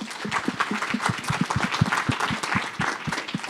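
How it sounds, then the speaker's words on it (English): An audience claps steadily, a dense patter of many hands at moderate volume, sustained without voices. "let's just give them a round of applause"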